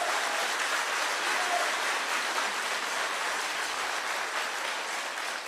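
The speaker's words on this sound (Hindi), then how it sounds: "जोरदार तालियों से इनका स्वागत है।" A crowd at a political gathering in Kashmir gives Congress leader Rahul Gandhi a welcome of steady, dense applause, heard as an even wash of clapping throughout.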